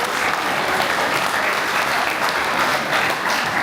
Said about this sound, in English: Let's give them a clap for that.